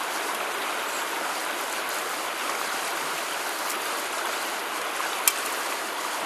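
Steady rush of pouring water, continuous and fairly loud, with a brief sharp knock near the end.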